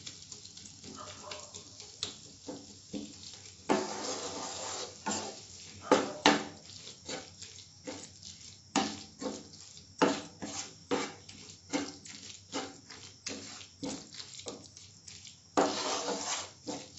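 Boiled masala egg fry spices being stirred in a pan over a low flame, Andhra style, with repeated clinks and scrapes of a utensil against the metal at an irregular pace alongside a faint steady sizzle.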